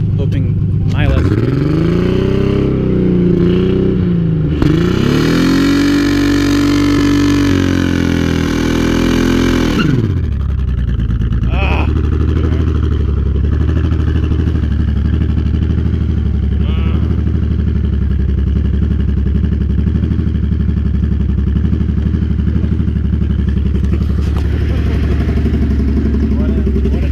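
Motorcycle engine held at high revs by a rock on the throttle during a burnout attempt, a loud sustained rising and falling roar for about ten seconds that then drops to a rough lower idle, with people talking nearby.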